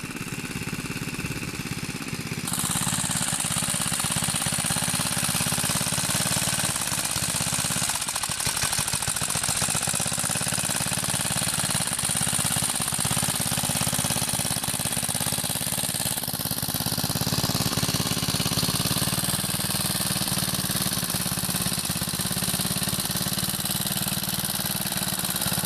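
A small Briggs & Stratton 3 horsepower engine, rebuilt with a swapped crank, runs loudly and continuously up close with a steady rough drone that shifts in pitch slightly, no talk over it.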